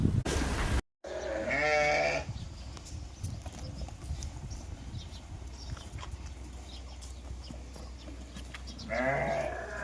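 Sheep bleat at a farm, one wavering call near the start and another at the very end, with low steady farmyard noise in between.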